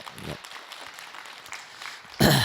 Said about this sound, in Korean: 자, 박수로 맞으세요.